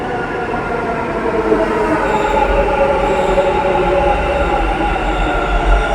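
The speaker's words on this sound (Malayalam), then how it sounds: "അപ്പോൾ നമ്മുടെ ട്രെയിൻ ഇനിയും വരും, ഉടനെ വരും" Bangalore metro train arriving at a platform, a steady loud rumble of wheels and car bodies with a faint high squeal running throughout, no talk.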